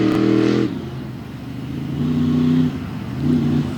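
A monster truck engine revs in bursts on the grass infield at Bloomsburg Fairgrounds during a freestyle event, loud and close with throaty rises and dips.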